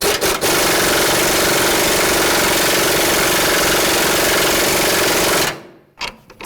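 A loud, continuous power tool buzz runs for over five seconds while tightening a bolt on a front lower rearward control arm of a 2006-10 Dodge Charger, then stops abruptly, followed by faint clinks.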